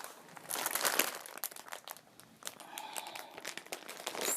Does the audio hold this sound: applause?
no